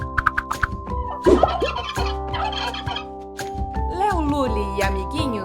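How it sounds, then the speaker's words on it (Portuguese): A turkey gobbles in rapid rattling bursts among farm animal sounds, loud and close, while a voice talks in Portuguese over part of it. "Este é o som do peru, que vai grugulejar de novo."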